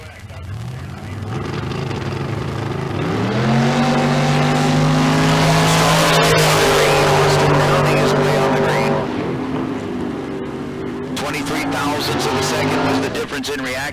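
Dragster and door car roar off the line together at a Tucson Dragway bracket race, a loud sustained engine blare rising in pitch through the run, then fading and swelling again as a commentator talks over it.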